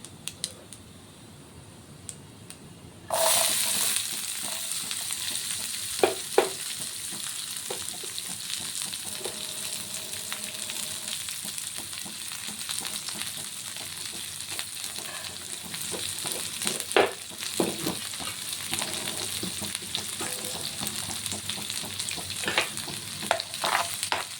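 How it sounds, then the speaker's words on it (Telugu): Onions drop into hot oil in a pan after a few quiet seconds, and a loud, continuous sizzle follows for the rest of the clip, broken by occasional clinks and scrapes of stirring, close up with no talking. "ఆనియన్ మొత్తం కూడా ఫ్రై చేసుకుంటాం"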